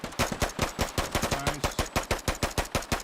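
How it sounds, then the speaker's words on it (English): Rapid, evenly spaced M16 rifle shots in the military shooter game Burning Lands, a steady string of about twenty crisp reports, moderately loud and close, with no voices. "I like the weapon sound effects here for the M16"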